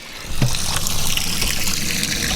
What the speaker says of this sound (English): This boat is slammed full of water.